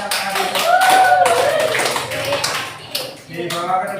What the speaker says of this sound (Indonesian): kasih tepuk tangan buat kelompoknya Mbak Nadine